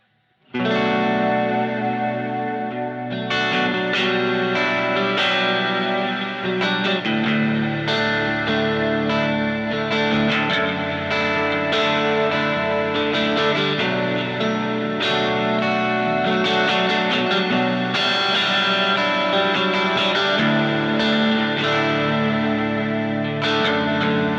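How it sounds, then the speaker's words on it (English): A continuous electric guitar part through a Kemper with an ionosphere reverb at about 65% mix, drenched in lush reverb with a shimmering, modulated tone, playing loudly and steadily for the whole stretch. "I'm going to go to the ionosphere reverb, which is one of my favorites."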